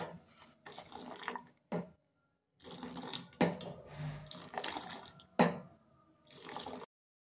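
Boiling masala tea poured up and down between vessels gives bursts of liquid splashing and gurgling, separated by short silences.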